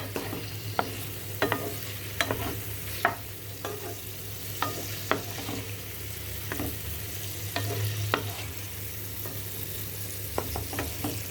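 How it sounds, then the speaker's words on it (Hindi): Paneer pieces lightly tossed in a pan for shahi paneer, with repeated scraping and clinking stir strokes at an uneven rhythm over a soft, steady sizzle and a low hum, close and moderately quiet. "मैं बस इसको खाली हल्का सा टॉस कर रही हूँ"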